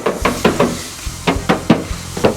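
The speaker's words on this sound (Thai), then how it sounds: "อ่ะเคาะดู" Knuckle knocks on the sheet-metal body panel of a used pickup truck, a series of sharp hollow raps in uneven bursts, close and fairly loud with no talking.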